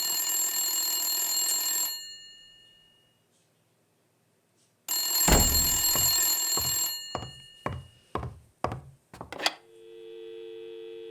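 Telephone ringing in the video game Blacksad: Under The Skin: a loud sustained ring that fades out, a silent pause, then another ring burst followed by a series of sharp clicks and thuds, ending with a low steady tone.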